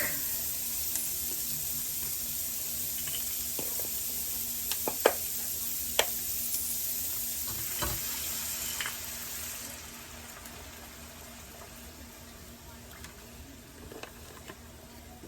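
Beef stock poured into a hot pan sizzles with a steady hiss, stirring and scraping heard now and then, and the sizzle eases slightly toward the end.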